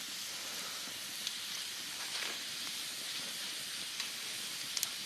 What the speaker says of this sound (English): Fire's burning good